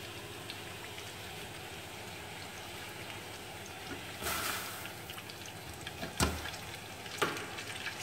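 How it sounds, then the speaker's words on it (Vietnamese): Pork belly frying in oil over medium heat, giving a steady dense sizzle throughout with a few brief louder crackles and spits. "Sau đó mình cho thịt ba chỉ vào chiên"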